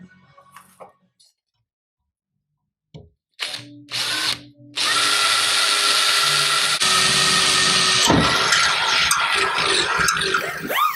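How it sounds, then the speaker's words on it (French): Power drill boring a hole through a metal car grille mounting plate: after quiet handling noises, a couple of short trigger bursts, then a sustained loud high motor whine with grinding as the bit cuts. "On va pouvoir percer."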